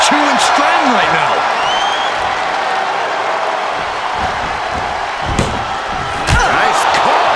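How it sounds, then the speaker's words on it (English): Loud arena crowd roars steadily throughout a women's NXT wrestling match in WWE 2K23, with a few sharp slams and impacts cutting through near the end and commentary voices beneath. "Just listen to this crowd."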